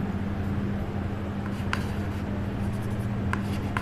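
Chalk or marker scratching across a classroom board in short strokes, faint and close, over a steady low electrical hum with no talking.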